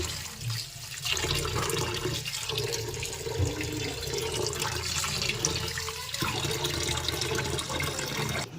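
Cut bitter gourd and potato pieces being rinsed under a steadily running kitchen tap, water splashing continuously into a bowl for several seconds with brief shifts as the vegetables are moved.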